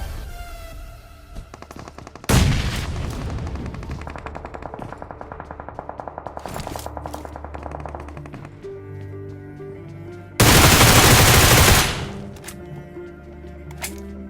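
Rapid automatic fire from an M4 rifle in the mobile shooter BGMI, with long dense bursts of sharp cracks, a heavy loud blast block near the end and continuous game ambience throughout, no talk.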